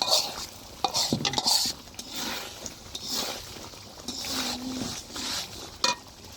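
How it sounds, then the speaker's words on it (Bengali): Spices sauté in a pan for a duck curry made with two whole local ducks, with a spoon scraping and clattering against the metal in uneven bursts over a soft, continuous sizzle. "এদিকে মশলা কষানো হয়ে গেছে প্রায়।"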